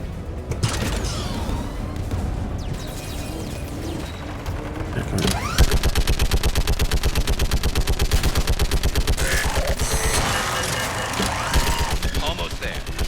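An AA gun turret firing in the video game Mass Effect 3. Dense, rapid, rhythmic bursts of automatic gunfire build from about midway and continue to the end over battle noise and game effects, with faint voices underneath.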